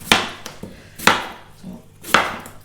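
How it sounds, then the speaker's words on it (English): A knife chops through potatoes on a board in three sharp, close strikes spaced about a second apart, each with a brief hollow knock and no voices. "Get these chopped up and I'll get them on and boiling."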